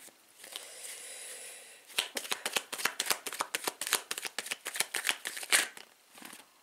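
Tarot cards are shuffled by hand in quick, crisp riffling bursts after a brief softer rustle, close and fairly quiet, with no voice.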